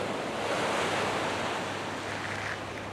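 Sea waves at Cheoc Van beach in Coloane, a steady wash of gentle surf with wind rushing across the microphone, continuous and fairly near, with no talk.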